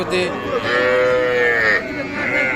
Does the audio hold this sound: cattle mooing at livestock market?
yes